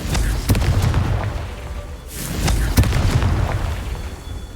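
A Confringo blasting spell goes off in Hogwarts Legacy, heavy booming explosions with deep rumbling, repeated several times loud and close amid crackling debris.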